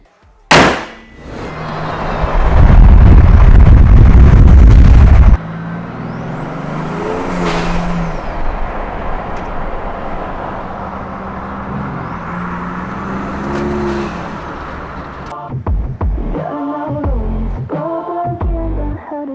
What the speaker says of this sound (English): I can like hear the turbo spool. Like you could hear it before, but it's like louder, like a whistle.